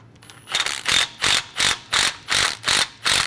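A socket wrench ratchets as it tightens bolts during a 5-inch lift kit install on a Toyota Tundra, eight crisp, evenly spaced bursts of clicking, close and loud with no talking.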